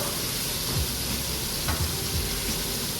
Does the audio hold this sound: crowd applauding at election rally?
no